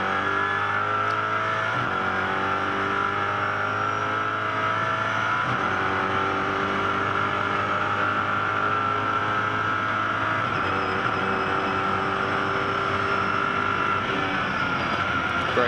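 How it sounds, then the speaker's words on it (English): A Mosler MT900 GT3 race car engine at Bathurst, heard onboard as a loud sustained roar climbing in pitch through each gear, with sharp paddle-shift changes dropping the revs several times. "Let's jump aboard this Mosler MT900 GT3."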